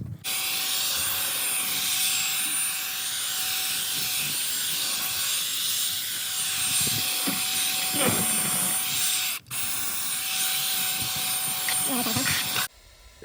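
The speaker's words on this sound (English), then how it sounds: "Right here we are blowing all the garbage out of the seats" An air blower blasts debris out of dirty car seats with a constant loud, hissing rush that briefly cuts out once, while a voice talks over it.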